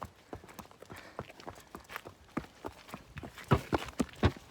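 A pony walking on an outdoor trail: a steady, close clip-clop of hooves with irregular rhythm, growing louder toward the end.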